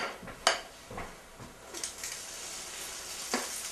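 Spoon scooping waffle batter, a few faint metallic clinks and soft wet scrapes against a bowl over a low background hiss.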